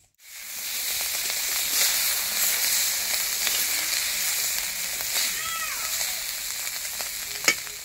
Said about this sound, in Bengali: মাছ ভাজা হয়ে গেছে, এবার তুলে নেব মাছগুলোকে।